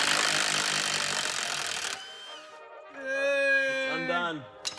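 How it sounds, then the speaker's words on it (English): An impact wrench hammering at a car's pulley bolt gives a harsh, loud burst lasting about two seconds, followed by voices talking. "Surely she's rattle gunnable now."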